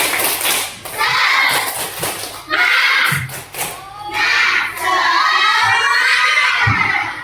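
A school class does a rhythmic spirit clap cheer as an icebreaker, bursts of children's chanting and shouting alternating with patterned clapping in several loud phrases, close and energetic.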